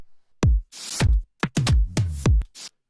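Processed drum loop with saturation, compression and a limiter, giving punchy, close kicks and hits with bursts of noisy snare or hat between them in an uneven beat, heard alone.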